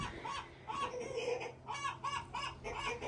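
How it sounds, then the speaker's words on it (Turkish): A hen clucks in a rhythmic run of repeated close bursts on a livestock farm, fairly loud and alone, with no talking. "Tavuk yumurtlayacaksan yumurtla sen de."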